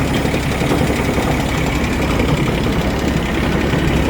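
A Japanese tracked mini tractor's engine idles steadily, a continuous low rumbling drone with faint knocking, close and loud with no talk.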